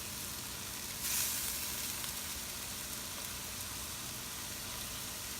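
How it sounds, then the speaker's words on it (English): Two tablespoons of shrimp paste hitting a hot pan for fried rice, giving a brief brighter burst of hiss over a constant, rain-like background sizzle, close and fairly quiet, with nobody speaking. "So this is time to add our shrimp paste. Two tablespoons of shrimp paste."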